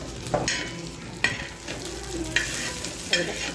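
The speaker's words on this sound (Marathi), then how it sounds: "असा कांदा भाजून घ्यायचा आहे भाजीसाठी जास्त जाळायचं नाही" Onion roasting in a handi pot for a spicy goat mutton curry crackles under a steady sizzle, punctuated by four evenly spaced stirring scrapes, close and moderately loud, with no talking.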